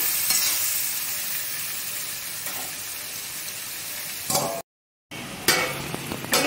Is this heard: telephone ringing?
no